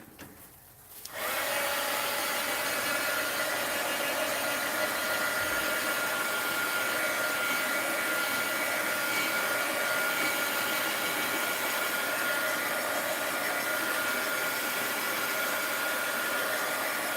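A heat tool dries ink on an art journal page, switching on after a brief quiet moment and then blowing as a loud, steady, even rush of air that continues without a break to the end.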